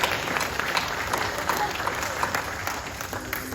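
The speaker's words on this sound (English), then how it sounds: "let's give him a round of applause anyway" An audience at a tiger show claps in a round of applause, a steady wash of many hands heard from a distance while a voice talks over it.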